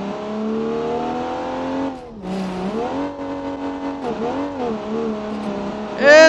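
Mazda M8 engine in the BeamNG.drive driving game, a steady droning rev that dips and climbs again through gear changes, then rises sharply at the end, loud and continuous with no talking.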